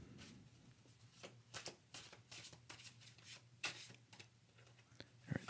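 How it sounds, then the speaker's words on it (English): A tarot deck is shuffled and three cards are drawn, making soft, faint rustles, flicks and light slaps of card on card in a quiet room. "So we will draw 3 cards to begin with."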